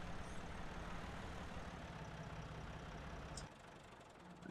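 Tractor engine idling in Farming Simulator 17, a Massey tractor on a farm field at a gateway: a steady, loud, low rumbling drone that drops to a quieter level near the end as it is switched off.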